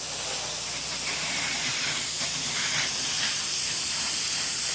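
A pressure washer downstreams detergent through a 2.1 injector onto a house exterior, giving a loud continuous spray hiss that holds steady throughout.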